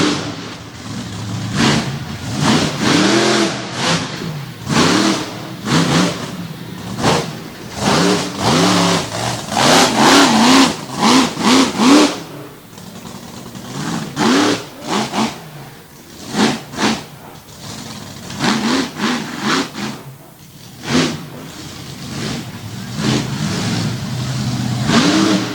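Virginia Giant monster truck on a Patrick chassis roaring at an arena show, its big racing engine revving hard in repeated loud bursts with brief dips between throttle stabs, close and dominant throughout.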